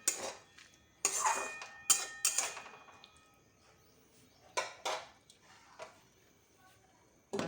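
A spoon clanks and scrapes against a metal pan while tomato jujube chutney with jaggery is stirred, giving sharp intermittent knocks in uneven bursts with quieter scraping between them.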